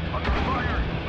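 Gunfire in the video game Spec Ops: The Line during co-op play, with short sharp shots and rumbling booms over steady battle noise as voices talk.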